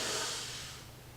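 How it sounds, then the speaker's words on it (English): A deep, close breath during a core exercise routine, a broad airy rush that is strongest at first and fades over about a second, with no talking. "I inhale deep"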